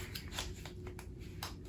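Tarot cards slid and scraped out of a snug cardboard box, a few soft brushing rustles and taps close by with no talk.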